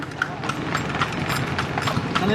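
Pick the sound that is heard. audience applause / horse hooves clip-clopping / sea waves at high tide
horse hooves clip-clopping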